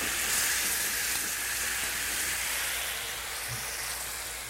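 Hoisin pork sizzles steadily in a hot skillet, a dense, continuous hiss of frying that stays loud and close throughout, fading only slightly toward the end, with no voices.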